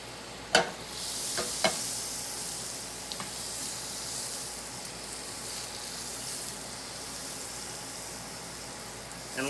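Butter melts and sizzles in a pan of browned pork fat from pork steaks, making a steady, close frying hiss. A few sharp utensil clicks sound near the start.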